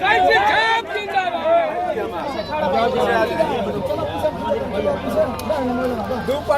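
A large, dense crowd gathered at a Karakat constituency campaign event, waiting for Jyoti Singh, keeps up a loud, continuous babble of many overlapping voices close by, with shouts rising from the hubbub throughout.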